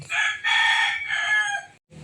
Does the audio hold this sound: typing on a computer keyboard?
no